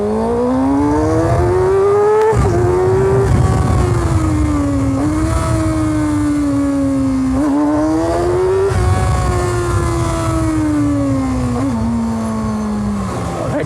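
A Kawasaki Ninja ZX6R 600cc superbike with a full-system exhaust, accelerating hard in first gear, is very loud and close. The engine note rises and falls through repeated sweeping revs over a steady roar.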